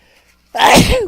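One loud, close sneeze bursts out after a brief quiet moment, with a sharp explosive onset and a short voiced tail as it ends.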